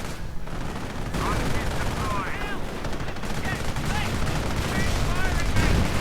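In a World War II strategy game, Henschel ground-attack aircraft make a strafing run, cannons firing in rapid bursts amid rattling gunfire and explosions, with a commentator talking over the battle.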